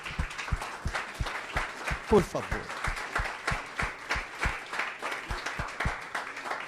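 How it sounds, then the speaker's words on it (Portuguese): A church congregation at a family worship service claps in a steady, rhythmic beat, sharp claps evenly spaced throughout, while a preacher's voice talks over them. "Aplaudam a Jesus."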